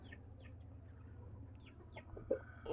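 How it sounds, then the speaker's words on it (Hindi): A hen clucks in short, faint calls outside a coop, repeated irregularly over a low background hum, with a few louder bumps near the end. "और ये भी शोर मचा रही है बाहर।"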